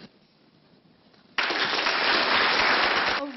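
Audience applause at a Kumho Tire announcement of a new manufacturing plant in Macon, Georgia, starting abruptly after a quiet moment and staying loud and dense until it cuts off near the end.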